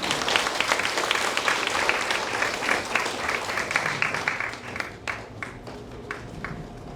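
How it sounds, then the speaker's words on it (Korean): A community briefing audience at a neighborhood meeting gives a big round of applause as the mayor and council chair come forward, dense sustained clapping that thins into a few scattered claps toward the end. "큰 박수 부탁드립니다"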